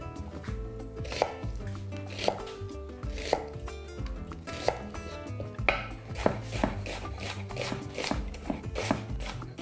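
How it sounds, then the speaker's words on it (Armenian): A knife chops a medium onion finely on a board, with steady repeated blade strikes over faint background clatter from a kitchen. "Եվ կտրատում ենք սոխ։"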